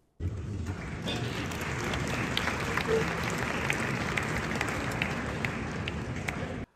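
Applause for Lula's speech at the UN General Assembly, a dense, steady wash of clapping from a large hall audience that holds at an even level for about six seconds, then cuts off.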